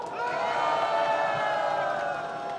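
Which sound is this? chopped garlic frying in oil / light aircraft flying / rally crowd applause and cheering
rally crowd applause and cheering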